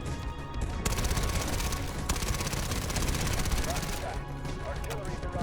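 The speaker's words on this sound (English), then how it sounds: "Artillery barrage." An artillery barrage in Delta Force, a continuous loud roar of explosions and rapid gunfire that fills the whole clip with sharp bursts throughout, while a voice talks underneath.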